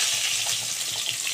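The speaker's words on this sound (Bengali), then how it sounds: "আলুটা আমি ভেজে নিচ্ছি" Potatoes fry in a pan with a steady, dense hiss and crackle of hot oil, close and even throughout, with no voices.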